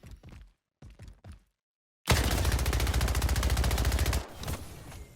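A submachine gun in a video game fires one sustained rapid burst of evenly spaced, loud shots lasting about two seconds, preceded by a few short bursts of footsteps or movement.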